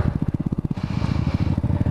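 A 2005 Honda Supra Fit motorcycle engine runs close by on a test ride, its steady rapid putter pulsing evenly, then shifting briefly before settling back into the same rhythmic beat.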